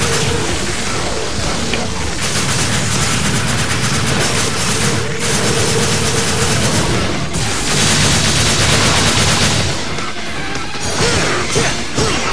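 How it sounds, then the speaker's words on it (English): Dense, continuous gunfire and crashing combat effects fill the Devil May Cry 4 boss fight against a giant frog, loud sustained shooting with brief bursts and impacts and no audible talk. "I think we have to keep shooting him."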